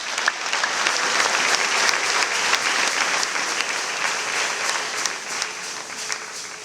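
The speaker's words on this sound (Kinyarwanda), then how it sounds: "reka twongere Imana yacu amashyi" A church congregation applauds after a choir performs, a sustained wash of clapping from many hands that stays loud and even before easing slightly at the end.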